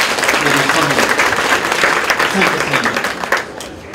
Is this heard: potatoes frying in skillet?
no